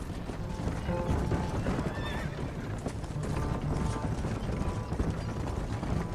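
A horse in the video game Red Dead Redemption gallops with steady clip-clop hoofbeats and gives a clear neigh, set against a busy game soundscape.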